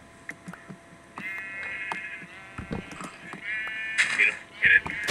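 A sheep in the Minecraft video game gives a few wavering bleats of moderate loudness, with faint game clicks and light speech nearby.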